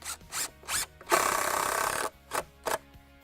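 A power drill drives a Spax HRC-X coated exterior deck screw into wood: several short whirring bursts, then one sustained grinding run of about a second, followed by two more brief pulses, close and moderately loud.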